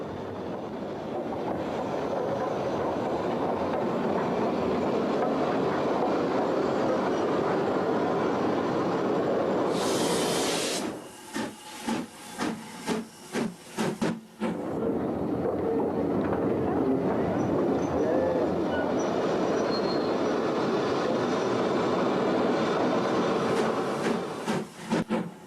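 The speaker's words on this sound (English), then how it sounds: "the guard would allow the train to run back into the platform by gravity" A train on the Isle of Wight rolls back into the Cowes platform under gravity, a continuous rumbling roll broken midway by a sharp hiss and a run of rhythmic clicks before the steady rolling resumes.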